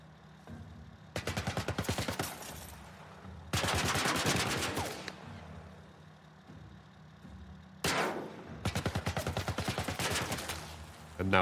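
Gunfire from an enemy in The Last of Us Part I, loud close bursts of rapid automatic shots, three separate volleys with short quiet gaps between them.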